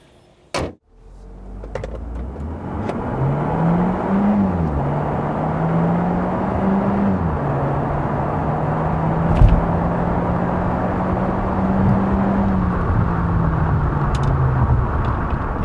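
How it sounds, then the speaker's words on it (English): A 2020 Kia Seltos subcompact SUV with dual-clutch transmission and all-wheel drive accelerates hard after a door-like thump, its engine note rising steadily through gears with brief dips at shifts, loud and continuous over road noise. "It took Seltos about 9 seconds to hit 62 miles per hour."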